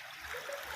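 Water trickles and splashes as it is poured over freshly caught live fish, a soft, brief, steady pour heard close up with no talk.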